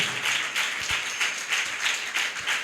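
A church congregation at Sunday worship claps hands together in a steady, rhythmic beat, many palms striking in unison in repeated pulses that fill the room.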